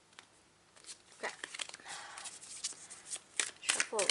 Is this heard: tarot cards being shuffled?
yes